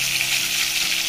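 Restaurant-style fish pieces frying in hot oil, making a loud, dense, continuous sizzle that stays even throughout without any other sound.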